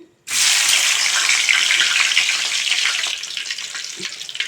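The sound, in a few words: small kaddi fish frying in oil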